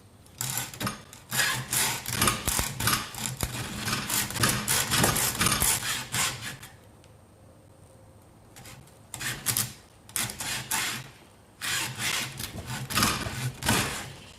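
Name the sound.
metal grating while grinding off burrs when making rings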